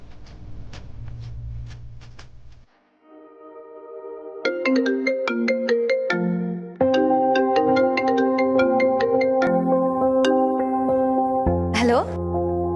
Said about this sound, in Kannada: ಇರಿ ಕಮಲಿಗೆ ಫೋನ್ ಮಾಡ